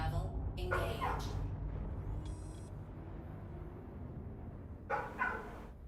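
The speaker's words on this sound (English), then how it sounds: "there's dog barking on my stream" A neighbor's dog barks in the background, with short bursts at the start and again near the end over a steady low hum of game sound.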